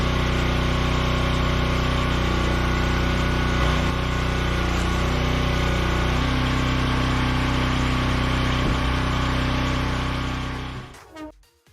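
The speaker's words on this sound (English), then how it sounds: "The splitter jaws bite down. Fibers tear apart with an unwilling crack, and sawdust scatters as wedges force their way through." A firewood processor works through elm wood, its engine droning loud and steady with a couple of faint knocks before the machine winds down abruptly near the end, no talking heard.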